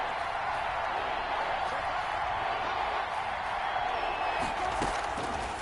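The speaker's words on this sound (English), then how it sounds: "this crowd gets up making some noise" A football stadium crowd roars steadily on a third-and-short play, a dense, loud wall of cheering that holds throughout with a few brief sharper bursts near the end.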